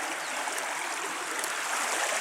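Steady rushing and trickling stream water near a dam, a continuous broadband wash with no voices, close by and fairly loud throughout.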